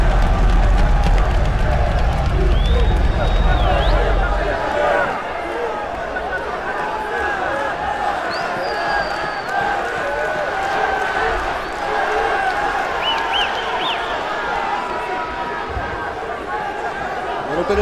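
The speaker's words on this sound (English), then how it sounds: "the crowd is coming alive with the confidence of Jansen Gomes here" Crowd at a World Championship 2023 grappling match between Jansen Gomes and Tainan Dalpra, a steady roar of cheering and chatter throughout, louder in the opening seconds, with a commentator talking over it.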